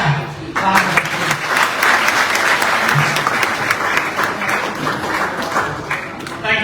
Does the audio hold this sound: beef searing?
no